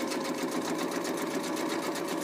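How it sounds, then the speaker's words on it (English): A sewing machine runs steadily and continuously at an even pace while stitching, with a dense mechanical whir that stays close and loud throughout. "I'm going to backstitch, and then I'm going to go start sewing all the way around"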